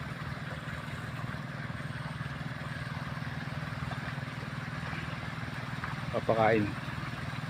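A motorcycle engine idles steadily close by throughout, a continuous low rumble, with a person speaking briefly over it near the end.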